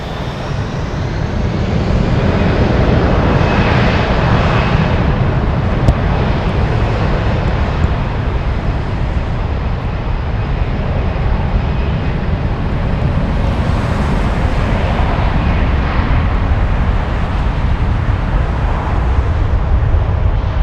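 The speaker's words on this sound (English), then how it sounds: "Just in time to see that A340." Airbus A340 jet at Frankfurt airport producing a loud, sustained deep engine roar for about twenty seconds, with no voices.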